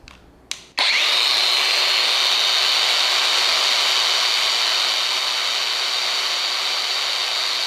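VRILL VAG2100 cordless brushless angle grinder spinning freely at top speed: after a brief click and start-up it holds a loud, steady high-pitched whine with a bright tonal hum, running alone with no talking.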